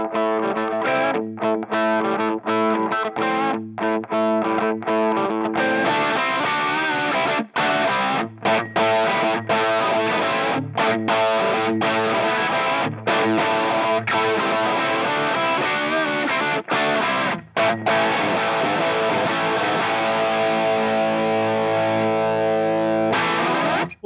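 Electric guitar runs through a Headrush MX5 overdrive and amp model, playing a loud, continuous, distorted chord-driven passage with brief stops between phrases.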